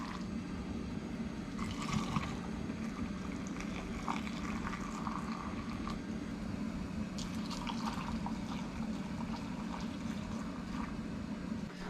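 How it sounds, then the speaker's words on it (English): Hot water pours into quart canning jars packed with potatoes and salt, a steady liquid rush and gurgle with scattered drips and clinks, close and continuous with no talking. "So now that our water is added to our jars"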